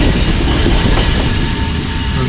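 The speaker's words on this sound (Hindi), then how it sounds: "पास थ्रू होगी ट्रेन" Train rolling through Dina railway station without stopping, a loud, steady rumble of wheels and carriage noise heard from on board, with faint rhythmic clatter throughout.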